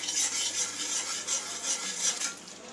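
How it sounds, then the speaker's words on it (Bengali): Food being stirred steadily in a cooking pan, a continuous close hiss of sizzling with soft rhythmic scraping swells and no voices. "একটু কনস্ট্যান্ট নাড়তে হবে।"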